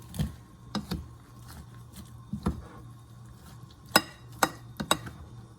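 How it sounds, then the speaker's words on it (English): Shrimp and vegetable fritter batter for Filipino ukoy is stirred in a bowl. The scraping and clinking of the utensil is sparse and irregular, with a few sharper knocks against the side of the bowl. "Mix it together."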